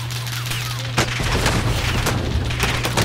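Rapid gunfire crackles through a busy shooter video game match, with dense overlapping shots and a sharp burst near the start, all over a steady low game hum.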